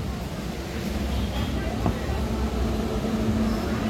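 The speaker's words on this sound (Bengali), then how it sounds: "এই যে ট্রেনটা ঢুকছে দেখুন, ওই যে LHB কোচের ট্রেন" An LHB-coach train rolling into Kolkata station, a low steady rumble with a faint squeal, heard under someone talking close by.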